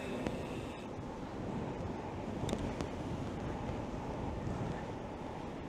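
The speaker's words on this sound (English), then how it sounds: "It's extremely windy now here in Miami." Constant buffeting wind in Miami blasting across a DJI wireless microphone, a dense low roar with occasional sharper gusts, loud and unbroken the whole time.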